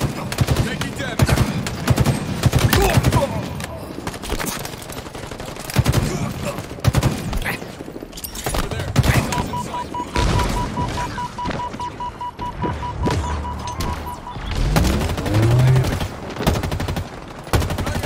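Gunfire in the Halo Infinite battle royale video game, dense rapid bursts of automatic fire and single shots across the whole stretch, loud and close, with a steady electronic beep partway through and game voice callouts over it.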